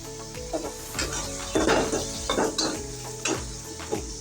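Oil sizzling in a pan on a home stove as papaya is set to fry, with repeated stirring scrapes and clinks of utensils against the pan at an uneven rhythm, close and moderately loud.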